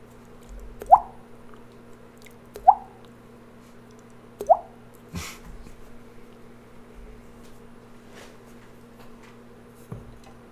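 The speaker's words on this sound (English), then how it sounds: "you can hear" Water drips slowly in a quiet underground space, three distinct drops falling a couple of seconds apart, with fainter drops later over a low steady hum.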